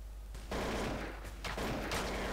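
Rapid automatic AK rifle fire during a Counter-Strike match, two or three quick bursts at moderate volume over a steady low background hum.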